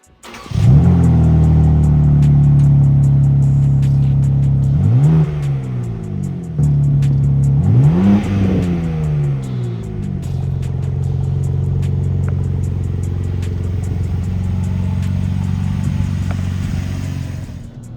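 A BMW G87 M2 starts up and drives off, its engine droning at a steady pitch, then revving up twice in quick climbing sweeps before settling into a loud, even cruise, heard close with no talking.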